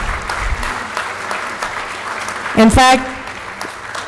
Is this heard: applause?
yes